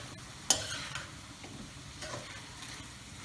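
Chopped vegetables sizzle in a huge wok (kadai) for spicy noodles and fried rice, with a sharp metal scrape near the start and quieter stirring scrapes throughout over a low, steady frying hiss.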